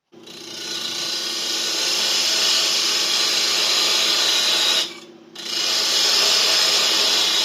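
A wooden jam chuck is turned on a lathe, a tool cutting the spinning wood with a steady, bright scraping hiss. The cut breaks off briefly near the end, then resumes just as steadily.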